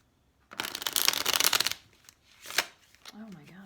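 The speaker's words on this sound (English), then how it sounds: "I can't shuffle tonight." A deck of tarot cards is riffle-shuffled in one fast, loud burst, followed by a shorter flick of the cards and then a voice speaking.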